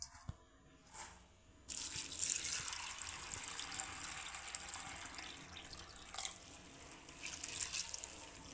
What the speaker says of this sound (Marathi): साबुदाणा व्यवस्थित असा 2-3 पाण्याने स्वच्छ असा धुवून घ्यायचा आहे